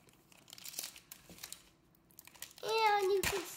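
Pokemon card booster packs being ripped open by hand, with close, sharp crinkling and tearing of foil wrappers in short bursts, ending in a louder sustained rip; a voice speaks briefly between the tears.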